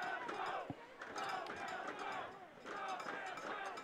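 A rowdy Queen's supporters' crowd at a university rugby semifinal against UBC yells and cheers in a steady, dense roar of overlapping voices.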